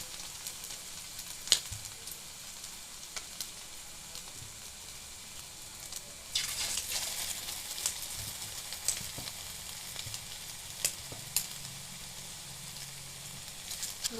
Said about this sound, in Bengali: এবার একে একে চিকেন পকোড়াগুলো দিয়ে দেব।